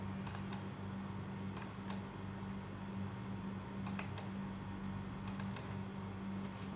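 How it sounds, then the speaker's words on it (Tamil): Scattered keystrokes on a computer keyboard come in small clusters of two or three sharp clicks. They sit over a steady low hum, with no speech. "எகெயின் கீபோர்டில் டேப் ப்ரெஸ் பண்ணுறேன், ஒரு நம்பர் டைப் பண்ணிடுறேன்."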